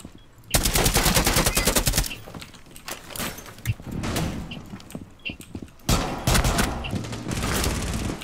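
Loud automatic gunfire in Rainbow Six Siege comes in long rattling bursts, with sporadic single shots and impacts between the volleys and another heavy burst near the end.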